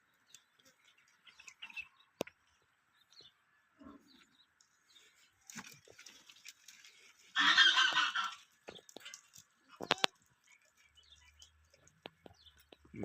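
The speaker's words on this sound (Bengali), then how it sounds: "মুরগির খামার" Poultry at a chicken farm gives scattered faint calls over quiet surroundings, and one louder, harsher squawking burst rises midway before the calls return to sparse, intermittent sounds.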